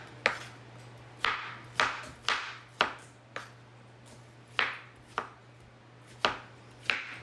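A knife slicing vegetables for pinakbet on a cutting board, about a dozen crisp, separate chops in an uneven rhythm, close and clear over a steady low hum.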